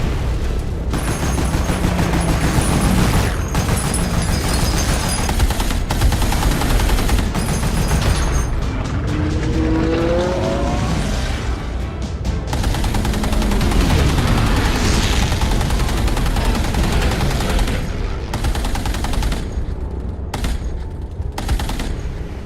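Bomber gunners fire machine guns during an aerial battle scene from the TV series Masters of the Air, a loud, dense, continuous barrage of rapid gunfire with booms and roaring engines throughout.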